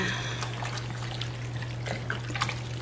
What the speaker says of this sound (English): And fill that up with water.